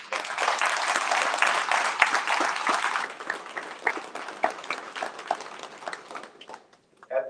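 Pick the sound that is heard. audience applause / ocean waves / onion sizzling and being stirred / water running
audience applause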